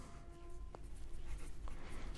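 A pen scratches steadily across paper while a maths problem is worked out by hand, a faint close-up rustle with a couple of small taps and no speech.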